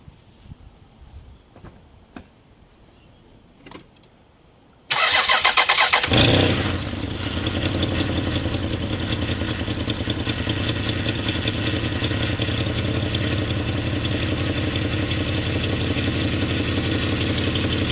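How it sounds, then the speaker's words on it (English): A Toyota 1MZ-FE engine with an oil leak: a few faint clicks and taps, then a loud burst of starter cranking that catches and settles into a steady, even idle, close up and running on alone. "Let's crank it over, see what happens."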